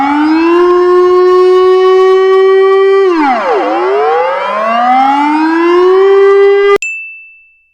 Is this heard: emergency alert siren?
yes